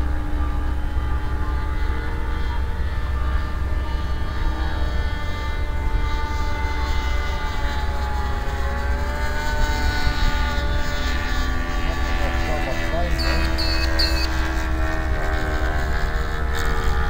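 A steady engine drone hums with sustained tonal whine, loud and continuous throughout, like an aircraft passing nearby.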